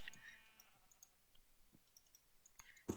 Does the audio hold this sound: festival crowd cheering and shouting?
no